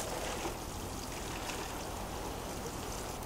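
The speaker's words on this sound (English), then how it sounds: "going to water these in with some rainwater from the water butts" Rainwater from a water butt pours steadily from a can onto newly planted winter seedlings of broad beans and spinach in a vegetable garden, a continuous close splashing and trickling with no talk.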